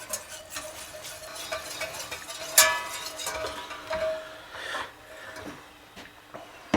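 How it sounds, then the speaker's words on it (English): Whisk stirring flour and butter roux in a pan for mac and cheese, a repeated soft scraping and swishing with light sizzle, close up and moderately loud, without speech. "We're going to whisk that flour and butter together."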